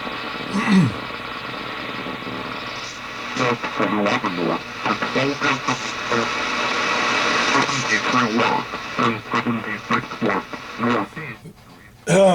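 Shortwave radio noise on a Grundig Satellit 800 with a warbling, garbled data signal fluttering through the static, fairly loud and continuous.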